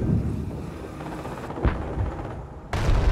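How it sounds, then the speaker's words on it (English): Small arms fire in Company of Heroes during a World War II battle, scattered distant shots and thuds mixed into a dense rumbling battlefield din. "They're gathering under small arms fire!"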